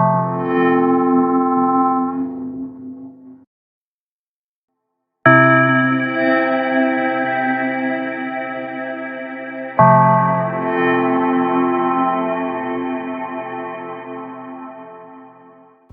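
Blackhole reverb on an iPad in freeze mode, holding a dense, sustained harmonic wash with infinite feedback; the held tone drops out to silence, then returns twice as new frozen layers that ring on steadily and slowly fade.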